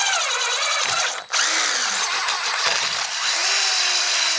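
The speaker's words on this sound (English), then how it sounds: "Milwaukee bits in a DeWalt drill" A DeWalt power drill fitted with Milwaukee bits whines loudly and close, its pitch dipping and rising as it bites into material, with brief pauses.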